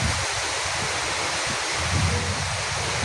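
Steady, heavy downpour on a village during a windy storm, a thick unbroken hiss of rainfall that stays loud and even from start to finish, no one speaking.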